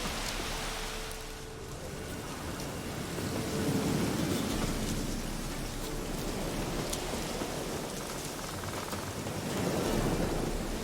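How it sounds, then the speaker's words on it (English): A thunderstorm in The Witcher 3 video game: steady heavy rain with rolling thunder that swells twice, and no voices. "Lightning strike."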